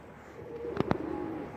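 A homing pigeon gives a short soft coo with two brief sharp accents in the middle, heard alone and fairly close over quiet background.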